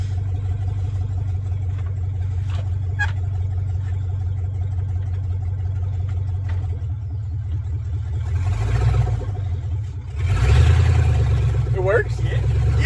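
A Chevrolet Silverado mud-rig engine, pulled from abandoned condition, idling in neutral with a steady low rumble that swells slightly near the end, while people talk over it.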